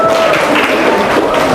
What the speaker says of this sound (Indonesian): Boleh tepuk tangan buat bapak-bapaknya.